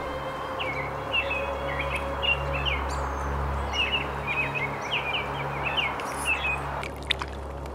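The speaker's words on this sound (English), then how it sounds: "A large flock of robins swarms a holly tree, feeding on the sweet berries." A large flock of robins feeding on berries in a holly tree gives off repeated short chirps and calls at moderate distance, scattered across several seconds over a steady low background hum.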